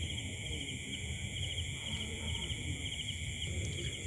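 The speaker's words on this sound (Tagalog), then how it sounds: "Narinig nyo yung mga huni ng mga kuliglig." Crickets chirp steadily outdoors under an evening sky, a continuous high trill with faint overlapping calls at moderate distance and low background noise.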